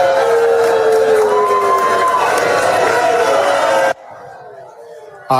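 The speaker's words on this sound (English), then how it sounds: "Protesters booed her" A protest crowd boos and shouts at Congresswoman Elise Stefanik at an upstate event in Plattsburgh, New York, a loud, sustained roar of jeers and yells lasting several seconds before cutting off abruptly.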